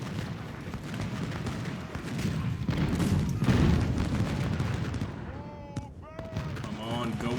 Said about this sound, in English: You got to treat those cannons as if they were repeater rifles themselves.